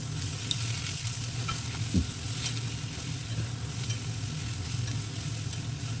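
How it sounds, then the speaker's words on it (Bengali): A paste of ginger, garlic and green chilli is stirred in a hot pan, giving a constant close sizzle with soft scrapes and an occasional light knock. "ভালোভাবে মশলাটা মিশিয়ে নিতে হবে।"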